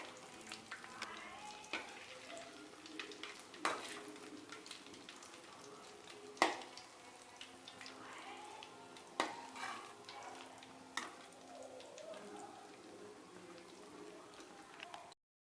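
Corn cheese balls deep-frying in hot oil, a steady soft sizzle with occasional sharper pops and crackles, close and fairly quiet, with no talk over it.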